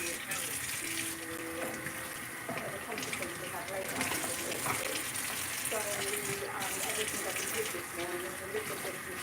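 Tap water runs steadily into a sink during dishwashing, a continuous close rushing under a person's background talk and a few clinks.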